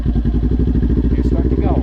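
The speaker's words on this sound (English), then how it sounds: "Now here's some throttle. Just give it a little bit." Motorcycle engine with a steady, fast, throbbing exhaust pulse at close range, loud and even with little change in pitch, a rider's voice faintly present beneath it.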